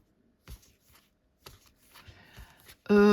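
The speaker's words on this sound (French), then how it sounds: "Les cartes glissent très très bien." An oracle card deck shuffled by hand at close range, with a few short soft riffling bursts separated by pauses, ending in a sudden louder voiced sound.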